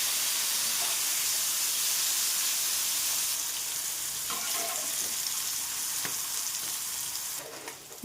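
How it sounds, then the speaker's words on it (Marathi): Paneer frying in a pan until golden brown, a loud continuous sizzle and hiss that eases slightly midway, with a few soft stirring scrapes and a sharp knock at the end. "गोल्डन ब्राऊन होईपर्यंत आपण मस्तपैकी फ्राय करणार आहे पनीरला."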